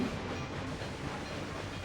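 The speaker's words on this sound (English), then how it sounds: "This is a brand new train with the brand new route from Moncton to Quebec." A passenger and mail train runs on the Moncton–Quebec route in the video game Railway Empire 2. Its rolling rumble and faint hiss come through steady and moderately loud, with no voices.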